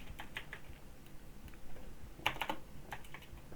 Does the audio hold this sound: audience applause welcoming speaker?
no